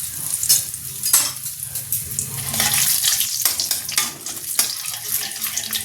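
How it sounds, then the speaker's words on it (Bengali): Ground lentil paste fries with asafoetida in an Indian kadai, giving a loud, close, bubbling sizzle with repeated scraping stirs of the spoon, and no talking. "চলো এবার কড়াতে এটাকে ভালো করে কষিয়ে নেব"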